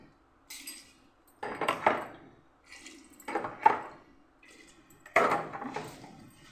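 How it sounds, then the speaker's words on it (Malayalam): Water splashes into a metal pot in four separate short pours totalling 3 litres, each a sloshing burst with a slight clank, with pauses between. "ആവശ്യത്തിന് വെള്ളം ഒഴിച്ച് കൊടുക്കുക"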